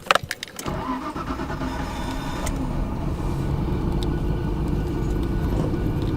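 A Nissan R33 GTR V-Spec straight-six engine runs at a steady, rumbling idle after a few sharp clicks and knocks at the start, close and continuous.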